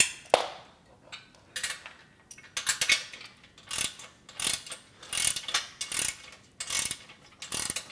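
A ratchet wrench tightening bolts on a Body Solid EXM3000 home gym frame clicks in quick bursts of sharp ratcheting strokes separated by short pauses, close and clear.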